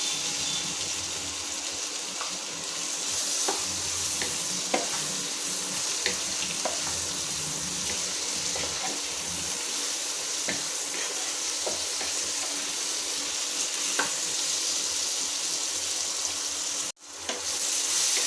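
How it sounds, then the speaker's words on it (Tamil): Chopped bottle gourd sautéing in a masala in a pan, a steady close sizzle with faint scraping stirs scattered throughout, no voices, ending in a sharp clatter and brief drop. "இப்போ சொரக்காய் கொஞ்சம் வதங்கிடுச்சு லைட்டாக"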